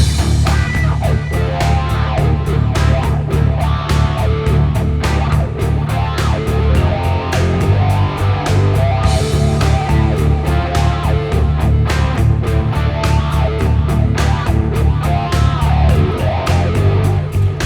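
A distorted electric guitar in drop D tuning plays a rock riff through a wah-wah pedal, the sweeping tone rising and falling over chugging chords, loud and continuous.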